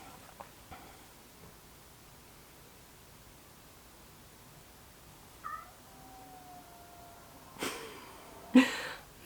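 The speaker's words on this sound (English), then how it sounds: "my cat Layla is just yowling" A house cat yowls from another room, wanting to come in: a few short meows early on, then louder drawn-out wails near the end against quiet background hiss.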